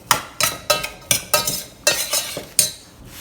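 Black beans stirred with fajita seasoning in a pan, a spoon scraping and clinking in about ten quick rhythmic strokes, close and fairly loud, with no voices.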